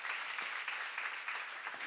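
Audience applause at a Korean church seminar on 2 Corinthians, a dense steady clatter of many hands clapping throughout, fairly distant and even with no talk over it.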